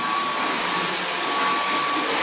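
Vacuum cleaner running on its maximum suction setting, a steady loud broadband roar with a thin constant whine, unbroken throughout and with no voices over it.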